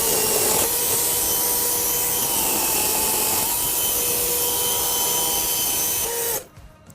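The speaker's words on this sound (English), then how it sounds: "I just made a perfect, smooth, even cut in 12 seconds" Chainsaw cutting through wood, a loud, continuous high whine with a rough grinding rasp that holds steady for about six seconds, then drops off abruptly as the cut finishes.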